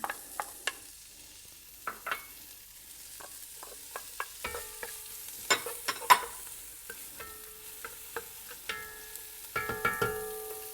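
Shallots and garlic, with a little lemon zest, sweat gently in a pan for clams, a faint soft sizzle under scattered sharp clinks and taps of a utensil on the pan.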